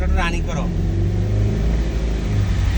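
A manual car's engine revs in a low, steady rumble as a learner driver feathers the accelerator, the sound continuous and close, with a brief voice at the start.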